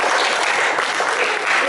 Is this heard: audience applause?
yes